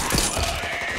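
Back 4 Blood gunfire, a dense rapid burst of automatic shots filling the moment with harsh, continuous crackle and noise.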